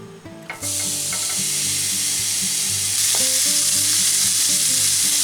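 Steak frying in a pan for a steak, egg and chips meal, with a loud, steady sizzle that swells after a few seconds and continues alone with no talking.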